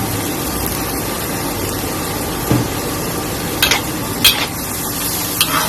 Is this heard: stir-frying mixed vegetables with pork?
yes